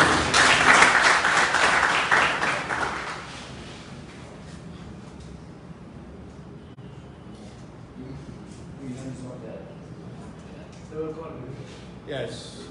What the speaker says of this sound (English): So let us give more appropriate claps for the visit.